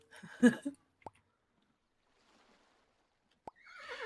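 A short video-game horse whinny from Old Market Sim bursts out at the start, followed by two sharp clicks separated by near silence, then a soft rushing noise at the end.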